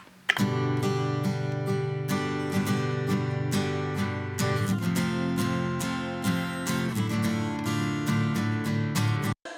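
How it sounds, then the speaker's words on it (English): Stereo acoustic guitar track, compressed and widened, strummed steadily in a rhythmic chordal pattern, close and alone throughout with no voice. "So this is what that acoustic sounds like."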